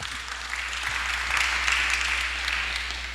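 Scattered clapping from a church congregation at a discipleship training session, steady and moderately loud for a few seconds with a soft hum underneath.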